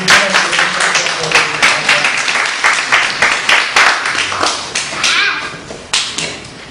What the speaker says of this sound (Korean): 하나님께 우리 박수로 같이